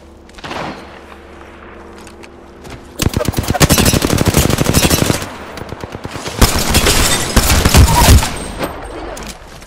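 Gunfire in the Apex Legends video game during a match on the Olympus map: loud bursts of rapid automatic fire and single shots, close, with short gaps and game voice lines in between.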